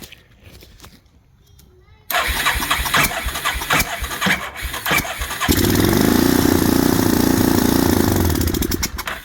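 A $550 ATV engine cranks after a quiet start, pops to life and settles into a steady, loud running drone, with rough bursts before it evens out.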